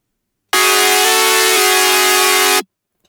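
Layered synth drop chord stack for drum and bass: a loud, sustained, bright chord rings alone for about two seconds, with a subtle shift partway through, then cuts off cleanly.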